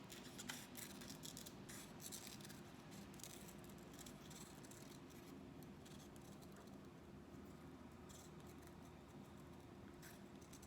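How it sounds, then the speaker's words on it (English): Scissors cut a circle out of red paper, a steady run of soft, close snips and paper rustles with no talking. "I'm gonna use some red and cut a circle."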